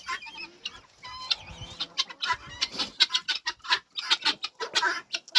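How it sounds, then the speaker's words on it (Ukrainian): Chickens cluck busily at close range while pecking at scattered grain in a poultry yard, a dense run of overlapping short clucks and calls with no talking. "О, качечки доїли, треба досипати, а курочки ще їдять."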